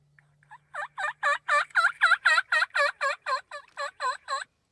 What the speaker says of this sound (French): 4 jakes qui répondaient dans le fond tranquillement à ses calls